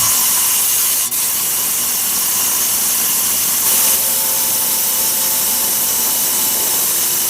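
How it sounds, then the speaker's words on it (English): A rock saw cuts through Agua Nueva vein agate with a steady, continuous grinding hiss. It stays loud and even throughout, close up, with no voices. "Let's cut another one"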